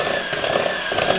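An electric mixer whips cream for a sundae at high speed, a steady close motor whir with a slight rough flutter, heard alone for a brief moment.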